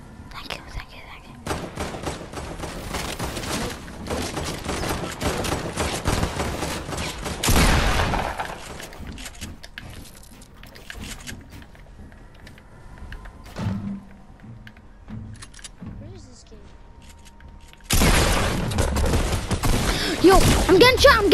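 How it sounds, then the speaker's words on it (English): Gunfire in Fortnite, bursts of rapid shots and impacts in clusters, loud near the start and again at the end, with quieter stretches between and players talking and whispering over it. "Yo, I'm getting shot from up top."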